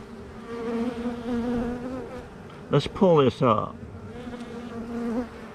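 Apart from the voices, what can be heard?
bee crawling out of a queen marking disc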